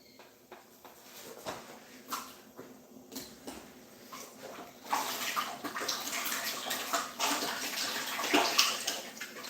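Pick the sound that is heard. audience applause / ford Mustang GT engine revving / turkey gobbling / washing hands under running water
washing hands under running water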